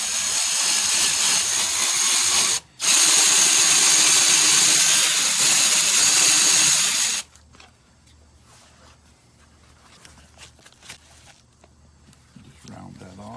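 Hanger hole drilled into the back of a lacquered wooden art piece, a loud close continuous power-drill whir with a brief pause, then stopping, followed by quieter handling noise.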